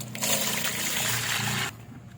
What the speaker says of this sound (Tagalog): nilagay natin sa balde, nilagyan ng tubig